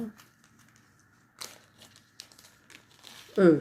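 A small plastic sachet of diamond painting drills is opened, with soft intermittent crinkling building to a louder crumple at the end, while a person talks quietly.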